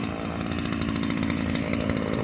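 Ryobi RY3714 14-inch chainsaw cutting tree stumps flush with the ground, a steady, loud, close engine drone with a fast rattling chain, running continuously with no talk.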